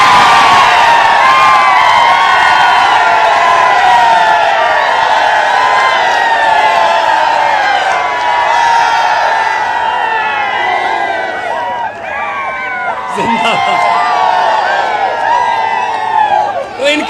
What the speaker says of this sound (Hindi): मैं ऐसा करता हूं 10-15 सेकंड आपको दे देता हूं, चीखे मारनी है चीखे मार लो